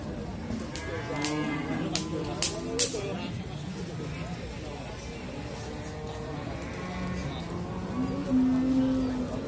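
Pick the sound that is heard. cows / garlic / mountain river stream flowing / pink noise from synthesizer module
cows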